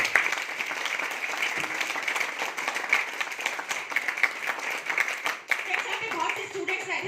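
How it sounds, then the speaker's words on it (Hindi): A crowd, with many students present, gives loud, continuous applause, a dense patter of clapping that holds steady throughout with some voices mixed in. "तो एक बार जोरदार तालियां चाहूंगी इस प्लेटफॉर्म के लिए।"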